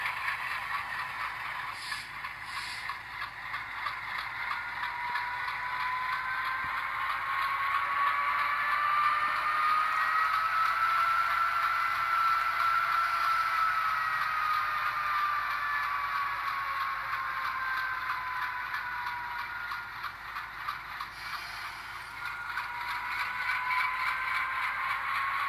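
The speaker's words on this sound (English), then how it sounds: "I'll let you hear the dynamic brake. I'm going to cut that on now." Dynamic brake sound from a Bowser ALCO C430 model locomotive in SCL livery, a sustained whining hum that rises slightly in pitch and falls back over a steady mechanical drone, fairly quiet, with a few brief clicks and no voices.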